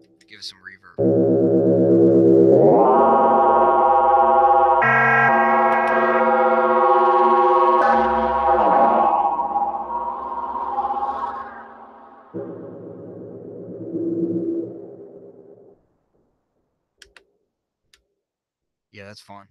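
Arturia MicroFreak synthesizer with reverb added, a loud buzzy sustained tone stepping through pitch changes and a lower, softer passage that decays into a reverb tail and then silence.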